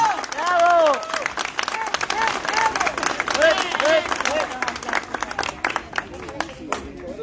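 Outdoor audience applause for a folk musician at a neighborhood tribute held in front of a house, a steady clatter of hand claps lasting several seconds with voices calling out over it.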